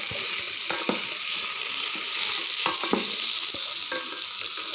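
Beef with mung dal and rice frying in a pan, a steady sizzle with intermittent spoon scrapes and knocks as the mixture is stirred, with no voices.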